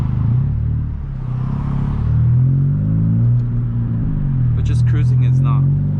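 Straight-piped 2021 Honda Civic FK7 hatchback cruising, a loud steady low exhaust drone filling the cabin with gentle rises and dips in pitch, a voice speaking briefly over it near the end.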